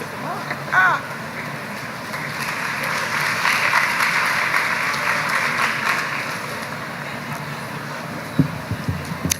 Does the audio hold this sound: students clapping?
yes